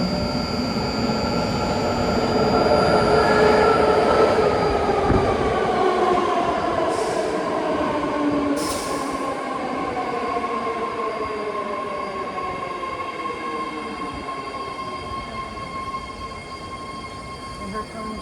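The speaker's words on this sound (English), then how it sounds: "here comes the 9-car yellow line Pittsburgh Bay Point bound Now train." A nine-car BART yellow line train bound for Pittsburgh/Bay Point pulls into Colma station with a steady loud rumble, rising wheel squeal and rail hiss that fades slightly as it slows. No one speaks.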